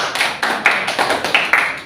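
A classroom of students claps in a rhythmic pattern, about nine sharp group claps in quick, evenly paced bursts, close and fairly loud with no talking over them.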